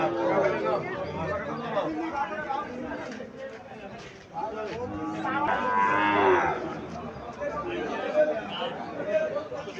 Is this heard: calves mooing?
yes